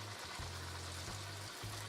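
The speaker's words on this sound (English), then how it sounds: "the oil is now hot, so we're going to do some frying" Sausage-stuffed jalapeño poppers shallow frying in hot oil, a steady, even sizzle that holds for the whole moment, quiet and continuous with a low hum underneath.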